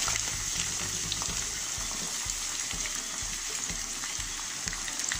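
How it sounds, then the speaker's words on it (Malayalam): Onions sizzle and crackle in hot oil left over from frying chicken, a steady close bubbling hiss with small pops that runs the whole time, no voices over it. "നമ്മളിപ്പോൾ ചിക്കൻ ഫ്രൈ ചെയ്തിട്ട് എടുത്തിട്ടുള്ള അതേ ഓയിലിൽ തന്നെ നമുക്ക് ഉള്ളിയും കൂടി ചേർത്ത് കൊടുക്കുക"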